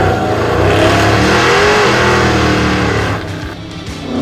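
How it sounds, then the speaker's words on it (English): A muscle truck snarls through a cone course at a Roadkill showdown, its engine revving loud and close with rising pitch and a hint of tire squeal, then easing back near the end. "that muscle truck is just snarling at me"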